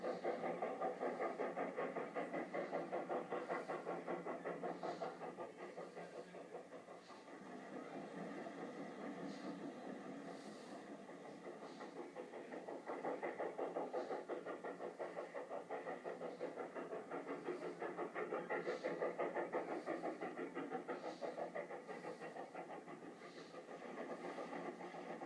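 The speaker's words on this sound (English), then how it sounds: "Locomotive number 8 was built in 1907 by the Baldwin Locomotive Works." Baldwin-built 1907 2-6-2 steam locomotive number 8 of the Feather River Shortline works up a steep 3.6% curved grade on the Virginia and Truckee, a continuous heavy rumbling chuff that swells and fades at moderate distance.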